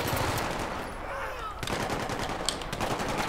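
Rapid gunfire in the video game Battlefield 3, bursts of automatic shots crackling in quick succession at moderate level amid busy battle noise, with faint talk in the background.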